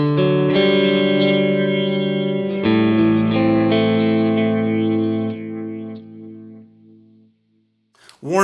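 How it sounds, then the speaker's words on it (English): An electric guitar runs through the filter delay on a BOSS DD-500 pedal. A few sustained chords shimmer as a subtle moving filter sweeps through the repeats, then decay slowly into quiet before a brief noise at the end. "They have a filter delay. So I've created this subtle filter. It's going to kind of move around."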